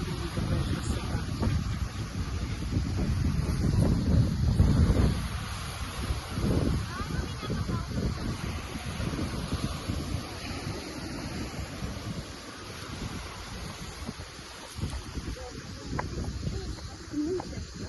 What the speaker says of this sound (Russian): Море красивое. Правда, волны, но все равно посмотрите, какая красота.